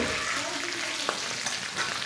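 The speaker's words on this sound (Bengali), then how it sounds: "দেখো এখন মাছ আমাদের ভাজা হচ্ছে" Magur catfish fries in oil in a pan, giving a steady close hiss and crackle with a single brief knock partway through.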